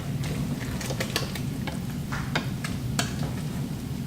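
Risotto with corn being stirred in a pan, a dense soft sizzle broken by quick scraping, clicking spoon strokes at an uneven rhythm, close and steady with no voices.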